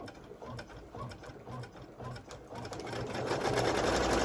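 An embroidery machine stitches a heat-and-bond patch onto a long-sleeve shirt, its needle thumping out a fast, even mechanical rhythm with whirring gears, heard up close and getting a little louder toward the end.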